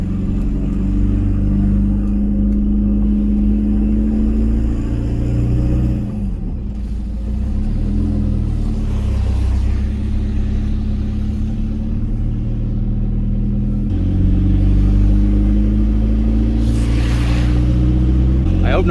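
Peugeot 206 diesel fitted with a 200HP turbo engine, heard from inside while driving: a steady, loud low engine drone that holds throughout with a couple of gear-change dips, under occasional talk.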